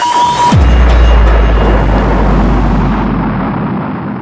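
A student-built rocket engine at a university propulsion lab test ignites with a sharp burst, then roars as a loud, sustained deep rumble for several seconds, slowly fading at the end.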